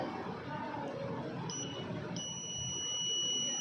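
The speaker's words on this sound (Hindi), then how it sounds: "फ्लोट सेंसर ऊपर आएगा तो हाई और बजर बजने लगेगा।" A buzzer on a flood monitoring project, set off when a float sensor rises with the water level, sounds as a thin, steady high-pitched tone that starts partway through and holds over background noise.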